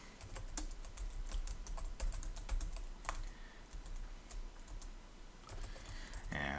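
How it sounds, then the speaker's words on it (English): Rapid, steady clicking of a computer keyboard as someone types code for a web page, close and continuous with tiny gaps between bursts of keystrokes. "I'll just type in a comment"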